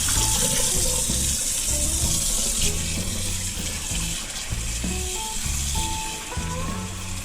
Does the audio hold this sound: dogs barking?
no